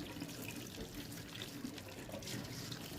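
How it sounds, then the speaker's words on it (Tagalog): Hot water running from a kitchen tap over bony pieces of meat being rinsed in a sink, a steady close splashing stream with no talk. "Hugasan ko lang ng hot water to."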